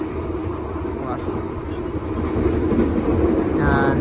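Kahuripan subsidized economy train running on rails at about 100 km/h, a steady loud rumble heard from inside the carriage with a brief voice over it.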